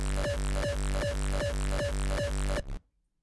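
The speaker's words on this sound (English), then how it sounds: "that is a basic raw kick from two presets from the pack" Raw EDM kick layered from two Serum presets at 155 BPM thumps in a steady, evenly spaced pattern of about ten hard punchy hits, loud and alone, then cuts to silence near the end.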